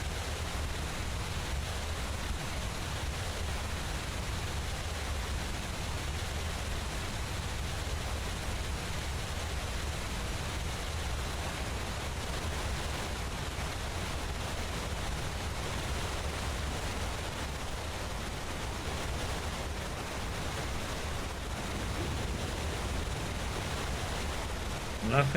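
A waterfall in the fantasy game Enderal roars as a steady, dense broadband rush, unbroken and fairly loud throughout with no clear talk over it.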